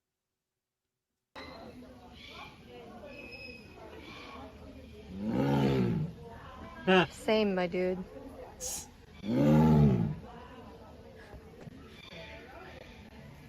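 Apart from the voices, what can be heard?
young tiger learning to roar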